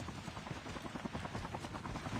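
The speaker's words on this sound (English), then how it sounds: "He hears the helicopter." A helicopter in Call of Duty Mobile battle royale gives off a continuous rotor thrum, a steady fluttering whir at moderate distance with no talk over it.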